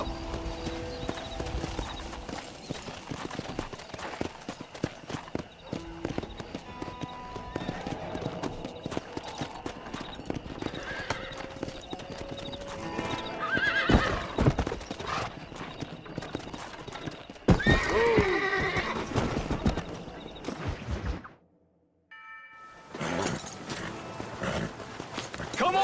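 Horses in Red Dead Redemption clatter in steady hoofbeats with sharp neighs and whinnies over busy game noise, loud and close, with a brief near-silent gap near the end.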